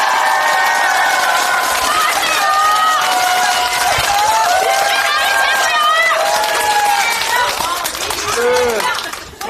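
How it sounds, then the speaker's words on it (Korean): An audience at a Korean political election rally cheers and shouts with scattered clapping, a loud, steady wall of crowd noise that stays dense throughout. "더 힘내서 이번 총선 압승하라고 힘찬 박수 부탁드립니다"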